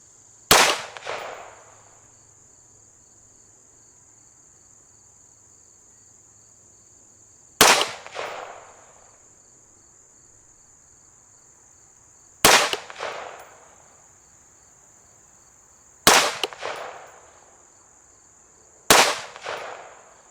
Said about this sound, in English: Let's shoot a 5-shot group.